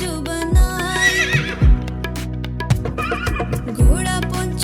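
A horse neighs in a Hindi children's rhyme, a bright whinny rising over a bouncy music track with steady thumping beats and clip-clop accents, loud and close.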